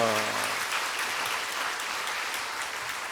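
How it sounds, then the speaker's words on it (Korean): Church congregation applauding during a Sunday worship service, a steady wash of clapping that holds for about three seconds after a speaking voice trails off at the start. "우리 박수하면서 격려하겠습니다"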